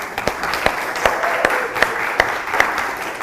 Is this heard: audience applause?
yes